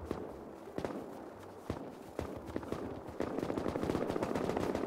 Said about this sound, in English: Who are we even shooting at?